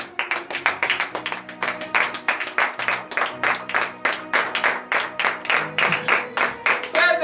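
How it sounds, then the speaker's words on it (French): Church congregation at a morning prayer service clapping in a steady unison rhythm, sharp repeated group claps at an even tempo with faint acclaiming voices underneath throughout. "à vous lever sur vos pieds et à donner de vive acclamation à l'Éternel"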